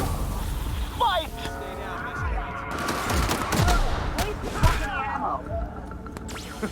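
Gunfire in The Outer Worlds video game: a battle in which rapid bursts and single shots crack over a dense mix of combat noise and effects.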